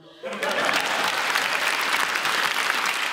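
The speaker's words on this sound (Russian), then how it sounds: "Аплодисменты." Applause from the audience at a televised Russian comedy roast, rising abruptly after a short quiet start into dense, sustained clapping that fills the rest of the moment.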